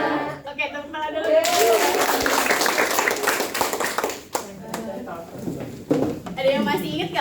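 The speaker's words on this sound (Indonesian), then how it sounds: "Oke, tepuk tangan dulu" A classroom of children claps together in a loud, sustained burst of applause that runs for several seconds, fading briefly before a second round, with a teacher's voice heard before and after.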